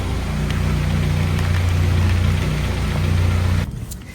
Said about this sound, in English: Let me shut the engine off.